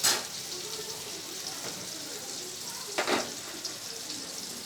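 Potatoes for a curry frying in a pan give off a continuous hissing sizzle, rising into a brief louder crackle partway through before settling back to a steady fizz.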